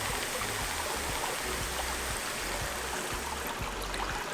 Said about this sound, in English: Then what I go do is to add some water.